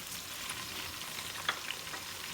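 Onion, garlic and tomato fry in oil for a tempering for mixed lentils, giving a soft, steady sizzle with a couple of faint stirring clicks.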